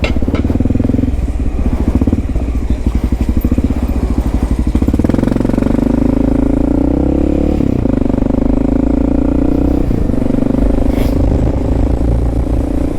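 A Marshal 150cc scooter rides by on a New York City street, its engine loud and close, buzzing steadily with a rising rev as it passes.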